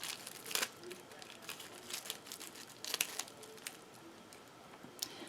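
Faint crinkling of plastic packaging with scattered snips and crisp rustles, irregular and quiet, as scissors cut open a candle-making kit close by.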